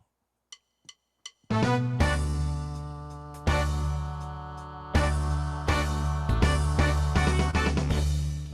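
Intro 1 of a song setup on a keyboard arranger, opening with a few sharp count-in clicks before a full band arrangement bursts in with drums, bass and chords, loud and steady with regular accented hits.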